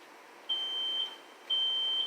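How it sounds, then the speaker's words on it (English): Two long, piercing electronic beeps, each about half a second, sounding a second apart over a faint background hiss. "this beeping has been going on for 3 hours now"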